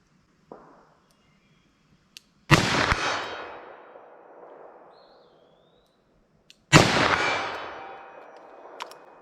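Two loud .44 Magnum revolver shots are fired outdoors a few seconds apart, each a sharp blast trailing off in a long echo, with a faint click before the first and no talking.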